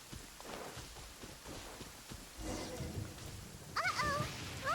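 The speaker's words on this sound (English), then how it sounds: "Uh-oh, lightning storm." A lightning storm in a video game brings a low, steady hiss of rain with rumbling thunder that swells partway through, and brief tonal voice-like sounds come in at the end.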